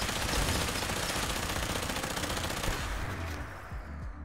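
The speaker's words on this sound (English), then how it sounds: "If I shoot the floor right about here," A heavy energy weapon mod in Fallout 4 fires at the floor in a dense, unbroken roaring burst like rapid automatic fire, loud and sustained before tailing off at the end.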